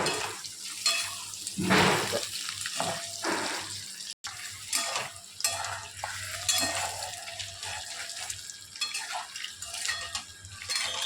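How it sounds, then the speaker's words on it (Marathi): Metal utensils scrape and clatter in a pan as eggs are lightly stir-fried in oil, with a steady sizzling hiss underneath, punctuated by repeated stirring strokes, close and fairly loud. "हलकेसे अंडे परतून घ्यायचे आहेत"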